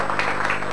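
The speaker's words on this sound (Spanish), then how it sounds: "Vamos a aplaudirla." Short burst of audience applause at a school poetry contest, a dense patter of many hands clapping steadily at moderate volume, with no one speaking over it.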